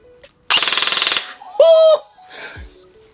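A rapid full-auto burst of about a dozen sharp mechanical shots from a G&G ARP9 airsoft gun fires in quick rhythm, followed by a short high-pitched vocal exclamation and faint laughter.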